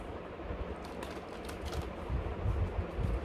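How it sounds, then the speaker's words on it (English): Tarot cards shuffled by hand, giving a steady run of soft, dense papery clicks and riffles that grow slightly louder toward the end, close up, with no talking. "I am shuffling the cards once"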